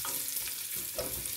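Fat sizzles in a pan while cooking túrós csusza, a brief, continuous crackling hiss with a stirring scrape partway through, close up.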